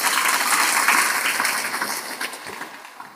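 Brief burst of audience clapping, dense and steady at first, then thinning and fading out toward the end.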